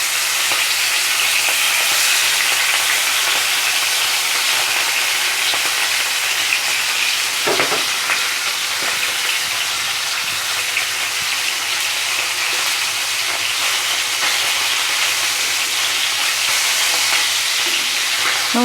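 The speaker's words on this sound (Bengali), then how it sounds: "আমি এবার ম্যারিনেট করা মাছগুলো এক এক করে তেলে" Marinated pomfret fish frying in hot oil, a loud, dense and continuous sizzle like heavy rain, steady for the whole stretch with one faint knock midway.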